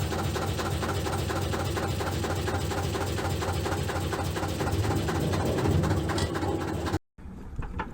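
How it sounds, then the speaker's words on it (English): An old Deutz stationary diesel engine chugs steadily with a rhythmic mechanical knocking, running continuously before cutting off abruptly near the end. "The Deutz diesel startup sound"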